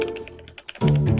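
Quick, close keystrokes on a computer keyboard tap out a few crisp clicks before a loud tonal sound cuts in and masks them.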